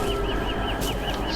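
A bird in the video game Don't Starve gives a short run of repeated clucking, fowl-like calls, steady and close, with no talk over them.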